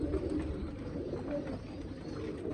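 Pigeons in a loft coo softly, low rounded calls repeating close by over a faint ambient background, with no voices.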